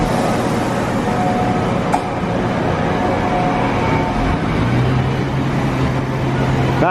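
A passenger train heading back to Dumbarton and Helensburgh Central rumbles steadily through a station, a continuous low drone with a brief clank near two seconds and a rising tone late on.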